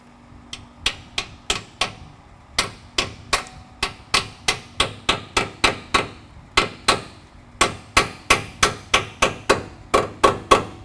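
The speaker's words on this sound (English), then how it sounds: "We're hammering it in." Sharp metallic hammer blows drive a brake line clip into place during a suspension lift install on a 2011 2WD Dodge Ram, roughly thirty close, loud strikes in quick runs of several, separated by brief pauses.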